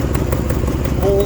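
Engine running on a 2005 Dodge Dakota with a badly leaking exhaust header where it bolts to the block, a loud steady rapid ticking puff close by, with a voice talking over it.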